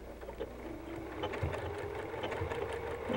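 A sewing machine zigzag-stitches a fabric heart applique onto a quilt background, producing a steady, moderately close mechanical whirring with light rhythmic clatter throughout.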